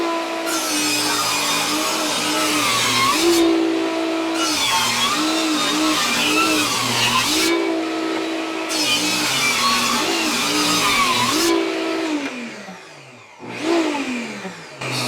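A table saw rips narrow legs from a 2x4 at a fence set to three-quarters of an inch. The motor drones loudly as the blade bites in and out across several passes, with short dips between cuts and no voices.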